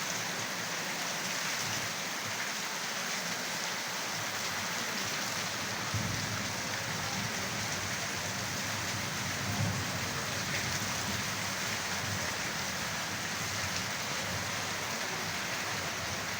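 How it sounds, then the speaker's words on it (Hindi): Heavy rain pours steadily, a dense even hiss of drops on surfaces with no pauses, fairly close and constant. "किस किस इलाके से बारिश हो रही है।"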